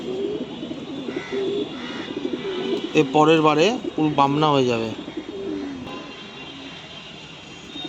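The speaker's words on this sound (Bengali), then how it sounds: "এই একটা তামড়া পেটিয়া পায়রা রয়েছে" Pigeons, including young birds, coo in a loud close burst of throaty rising-falling calls in the middle, with someone talking before and around them.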